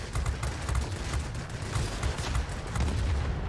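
Aircraft machine guns in the World of Warplanes video game rattle in a dense, continuous stream of rapid bursts over a heavy engine drone, loud and sustained throughout.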